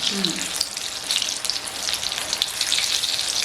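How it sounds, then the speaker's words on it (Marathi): Prawn vada pav fritters fry in hot oil, giving a continuous bright hiss and fine crackle like light rain, steady and close throughout, with no talk. "तेलात कोणताही पदार्थ सोडताना स्लो सोडायचा हो, म्हणजे तेल उडत पण नाही"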